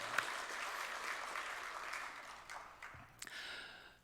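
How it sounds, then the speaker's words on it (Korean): Applause from a church congregation during a Sunday worship service, a steady wash of clapping for about three seconds that thins out and fades near the end, heard at moderate distance. "우리 찬양 받으신 주님께 영광의 박수 올립시다."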